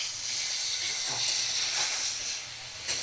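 Kashmiri red chili powder fries with ginger garlic paste in a pan for a Bengali bottle gourd and prawn dish, a steady close hiss and sizzle that swells slightly in the middle.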